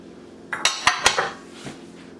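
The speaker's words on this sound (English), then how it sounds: "I'll be adding the spring onion." Spring onion going into a marinade bowl, heard as a quick series of four or five sharp clinks of utensil against dish, close and fairly quiet, then a softer knock.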